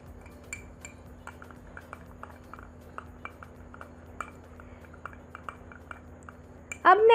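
A spoon clinks and scrapes quietly in a small bowl as toothpaste, aloe vera gel, coffee and salt are stirred into a paste, with a steady low hum beneath and a louder noise at the very end.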